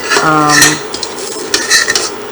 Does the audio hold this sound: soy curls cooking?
yes